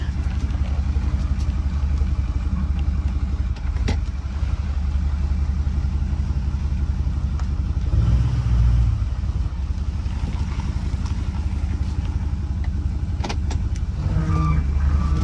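A Ford 6.4L Powerstroke diesel truck engine runs steadily while driving, a continuous low rumble throughout with a brief swell around the middle, close and loud with no talking.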